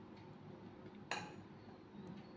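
A single light clink of a bowl set down on a surface during a home lunch of rice, bitter gourd with potato and boiled eggs, brief and faint against a quiet room.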